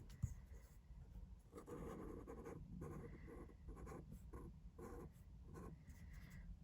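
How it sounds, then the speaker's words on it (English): A pen drawing on paper, marking groups during a maths lesson on dividing, gives soft continuous scratching strokes in short bursts, fairly close, with no talk over it. "I'm going to use a pen so that I can draw the groups on myself."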